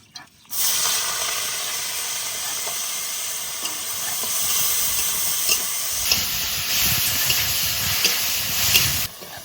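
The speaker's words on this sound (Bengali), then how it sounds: "তেল গরম হয়ে গেছে, এবার চিংড়ি মাছ দিয়ে দেবো।" Prawns sizzle and spit in hot oil with a steady broadband hiss, growing louder and crackling harder toward the end.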